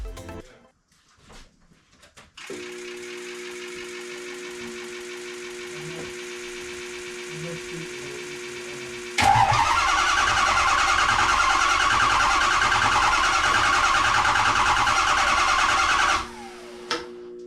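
A 2005 Ford 6.0 Powerstroke diesel engine cranks steadily with a droning starter whine, then catches and runs louder for several seconds before cutting off, with no talking over it.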